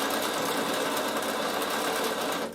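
A sewing machine stitches toward the corner of a fabric travel pouch in a continuous, loud, even mechanical whir that runs steadily and then stops abruptly at the end.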